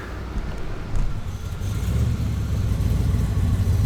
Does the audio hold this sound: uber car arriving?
yes